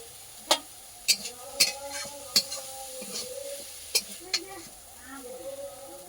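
Shrimp frying with banana blossom in a pan gives off a low sizzle broken by sharp, irregular clacks of a utensil against the pan, close and moderately loud, with faint voice-like sound in the background.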